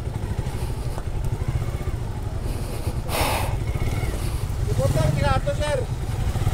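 A motorized tricycle engine rumbles steadily nearby as it passes, with a busy crowd and voices talking throughout.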